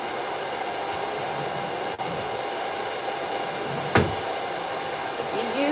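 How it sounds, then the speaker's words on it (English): A salon hair dryer blows steadily while drying a Persian cat after a bath, a constant loud whooshing drone with a couple of brief knocks and bumps partway through, no speech. "layer over top the sound of that the Salon dryer to try and fluff her out"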